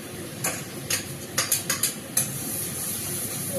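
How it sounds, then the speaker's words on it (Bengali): Ground Kashmiri chilli, cumin and coriander powders sauté in a pan with a steady low sizzle, broken by several sharp scraping stirs of a spoon against the pan. "ভালো করে কষে নেবো আমি মশলাটাকে।"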